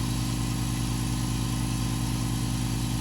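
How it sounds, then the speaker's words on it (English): A quiet 1 horsepower air compressor running steadily, a constant even mechanical hum with a faint rhythmic pulse throughout, close and unchanging, with no speech. "I have never in my life heard an air compressor this quiet."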